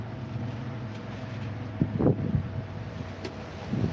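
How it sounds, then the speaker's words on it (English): Strong wind gusting outdoors in Springfield, Missouri, a steady low rumble of buffeting across the mic with heavier gusts swelling through the middle and again at the end. "it's windy as hell"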